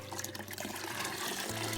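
Fresh cow dung is stirred into water, about one mug of dung to ten mugs of water, making continuous close wet sloshing and swirling sounds with no talking.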